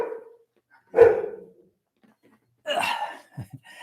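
Dogs barking indoors, two or three separate sharp woofs spaced a second or more apart, with a short pair of softer yelps at the end, loud and close against silence.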